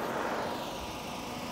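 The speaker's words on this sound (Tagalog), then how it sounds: "Paparinig ko na sa inyo yung makina." A Suzuki DA17V semi wagon mini van with a turbo engine and automatic transmission idles with the air conditioning on, producing a steady, even droning hum with no voices.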